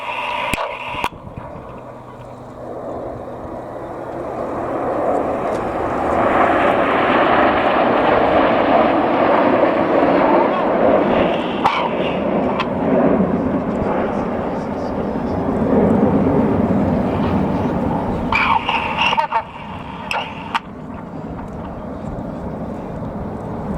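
Red Arrows display jets fly overhead in Phoenix formation, a broad rushing jet roar that swells and fades over many seconds, heard from a distance with an announcer talking over it.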